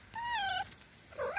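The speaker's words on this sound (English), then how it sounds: "Excuse my cat." A domestic cat meows twice outdoors in a garden of Kentucky Red peanut plants, the first a long clear wavering call and the second a shorter rising one, close and fairly loud with no talk.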